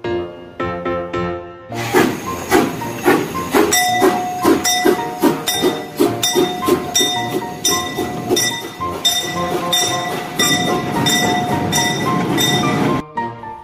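A train passes with rhythmic clattering of wheels over the rails and metallic clinks, loud and close, after a brief quieter opening.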